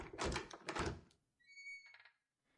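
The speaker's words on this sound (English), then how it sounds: "I hear the familiar crack and thump of a door opening and closing" Two heavy wooden thumps of a door in a video game, followed by a squeaky creak and a softer latch sound, all close and isolated against quiet.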